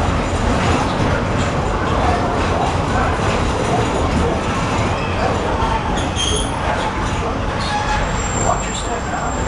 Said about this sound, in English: Please remain seated till the train has come to its full and complete stop.